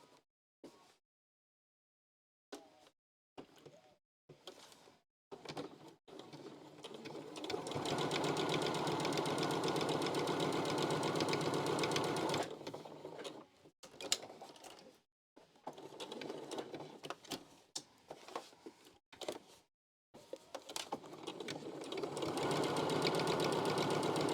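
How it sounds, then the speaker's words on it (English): A sewing machine stitches fabric masks in loud, fast bursts broken by short pauses, with long steady runs near the middle and end and a faint rattle from the table. "I'm just sewing so fast that the whole table's just shaking."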